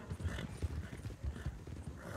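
Horses' hooves clip-clop in a quick, uneven rhythm, fairly close and quiet, continuing through the short stretch without any clear talk.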